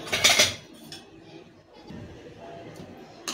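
An oiled metal chakli press being filled with dough, heard as a sharp burst of metallic clinks and rattles up close, followed by softer handling knocks and a final small clink.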